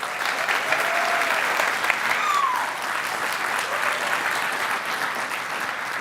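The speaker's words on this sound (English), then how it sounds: "Everyone, let's give another round of applause." An audience applauds steadily for about six seconds at a product community event, the dense clapping holding an even level throughout with no break.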